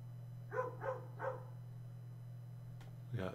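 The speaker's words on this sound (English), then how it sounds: "We got dogs barking in the background." Dogs bark in the background, three quick barks in a row and another later, faint and distant over a steady electrical hum.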